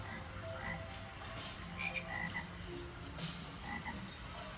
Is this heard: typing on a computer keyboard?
no